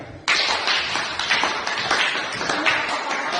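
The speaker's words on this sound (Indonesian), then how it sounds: "marilah kita tepuk tangan kepada kelompok 3" A classroom audience breaks into sudden applause for a discussion group, many hands clapping together in a dense, continuous burst up close.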